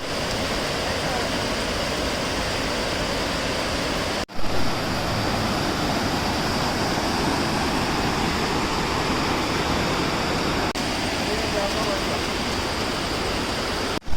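A swollen river near Mookambika temple, fed by rain running off the forest, rushes past in a loud, unbroken roar of flowing water, close and dense from start to finish.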